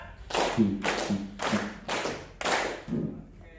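Five sharp, evenly spaced claps ring out close by, ending a counted clapping routine at a teachers' workshop, with a faint voice behind them.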